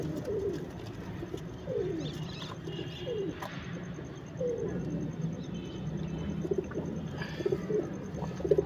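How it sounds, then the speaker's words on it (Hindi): A loft of about thirty-two pigeons coos close by in repeated soft, throaty rolling calls, overlapping one another against a steady background hum with occasional chirps. "ये 32 कबूतर है"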